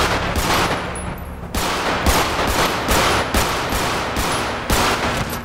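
Rapid automatic gunfire in the video game GTA 5 during a shootout, repeated bursts of close, loud shots with brief pauses between them, dense and continuous.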